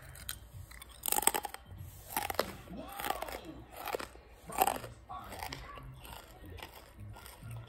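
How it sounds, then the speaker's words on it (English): A crunchy snack is bitten and chewed up close. Several sharp crunches stand out, the loudest about a second in and near the middle, with softer chewing between them in a quiet room. "Listen to the crunch."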